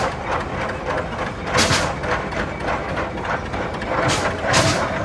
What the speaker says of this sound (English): That's a 2-cylinder hit and miss engine.